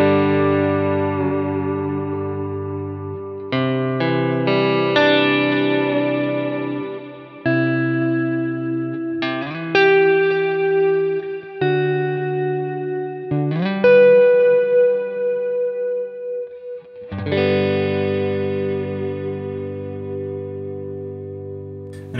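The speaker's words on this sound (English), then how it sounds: "So the delay from the Timeline sounds really awesome. I love using it with the Cloudburst. Cloudburst right now is on more of an ambient setting." Electric guitar run through a Timeline delay and a Cloudburst reverb pedal on an ambient setting, sustained chords and notes swelling and washing into long echoing tails, loud and alone with no talk.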